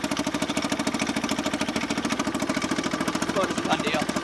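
A 1968 Sears Clinton 3.5hp small engine idles steadily close by, its fast, even chugging pulses running throughout with a faint voice in the background.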